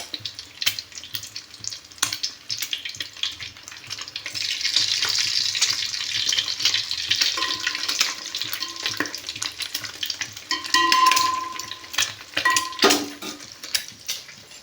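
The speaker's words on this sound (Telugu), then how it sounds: "ఎగ్ అయితే వేసాను అనమాట దాన్ని ఇలాగా కొంచెం అలా హట్లాగా అవనిచ్చి తర్వాత మనం మ్యాష్ చేయాలన్నమాట" Egg frying in a pan for egg fried rice, sizzling steadily while it is stirred and mashed, with intermittent scraping and clinking of utensil against the pan and a brief running-water sound, no talk.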